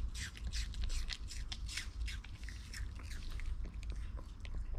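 A Maltese dog crunches and chews a piece of apple, with close, crisp, repeated crunching bites and moist chewing in a continuous run.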